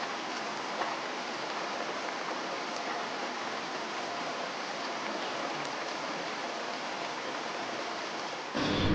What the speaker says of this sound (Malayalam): അപ്പോഴും പുറത്തൊക്കെ ഭയങ്കര മഴയാട്ടോ.